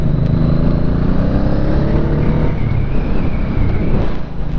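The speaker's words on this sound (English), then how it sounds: "And this bike sounds pretty killer." A 1985 Honda Shadow motorcycle engine runs steadily at close range, a loud, throaty idle with a low pulsing rumble and a slight rise in revs partway through, with no talking.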